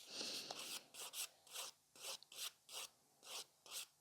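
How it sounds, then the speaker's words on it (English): A nail file rasping acrylic product off a nail plate in steady close strokes, roughly ten short scrapes in an even back-and-forth rhythm, quiet and alone. "I'm almost filed away all the product which was on this nail plate."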